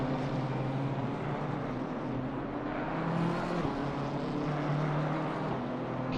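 A race car in a sim racing game laps Laguna Seca during qualifying, its engine a steady, fairly quiet drone that swells and shifts in pitch with no voices over it.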